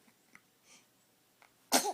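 A baby sneezes once, a single sharp, close burst at the very end after a few soft breaths and faint rustles.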